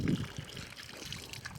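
Water trickles and pours into a water trough at a roadside temple, a quiet, fairly distant stream with a brief louder splash at the start.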